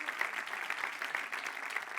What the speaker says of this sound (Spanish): Dele un aplauso, amén